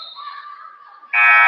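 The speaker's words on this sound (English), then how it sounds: "Whistle is blown and the buzzer is sounded." A loud, sustained electronic buzzer blares at a high school wrestling championship to end a period, cutting in abruptly after faint crowd and gym background noise.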